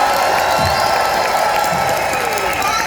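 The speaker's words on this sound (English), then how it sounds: "if you think it's Luigi, make some noise!" A studio audience at a celebrity game show cheers, whoops and applauds loudly and continuously in a dense, close wash of crowd noise.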